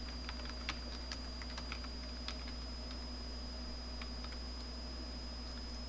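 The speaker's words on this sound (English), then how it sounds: "Scroll with the arrow keys, okay." Computer keyboard arrow keys clack in quick irregular bursts while scrolling a map editor, close and crisp over a steady electrical hum and faint fan whine, with no one talking.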